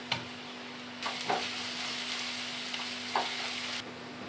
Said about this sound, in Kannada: ಬ್ರೌನ್ ಕಲರ್ ಆಗೋವರೆಗೂ ನಾವು ಫ್ರೈ ಮಾಡ್ಕೋಬೇಕು